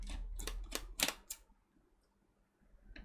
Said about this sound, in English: So I'm going to just carry on undoing screws.